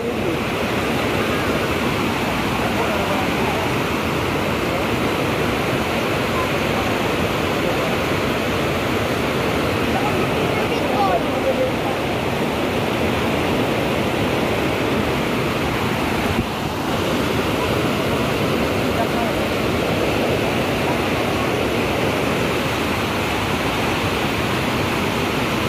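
Rushing water of the swollen Kaunadjan River, a steady, loud, broadband roar that holds unchanged throughout with no talk over it.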